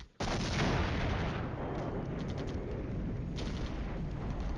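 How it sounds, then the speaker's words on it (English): An artillery barrage in the Flashpoint Campaigns Cold War strategy game is a dense, continuous roar of rumbling blasts that starts abruptly and holds loud throughout, with no talking. "here comes their supporting artillery barrage"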